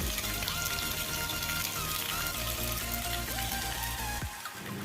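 A homemade water pump powered by a 4 HP grinder motor runs steadily while pushing water, a continuous loud hum with splashing and gushing flow throughout, briefly dipping near the end.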